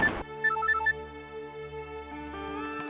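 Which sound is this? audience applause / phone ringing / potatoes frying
phone ringing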